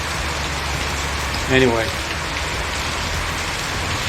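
Steady rain falling outdoors beside a standalone wall being built, a constant broadband hiss throughout with a brief spoken word from a man partway through.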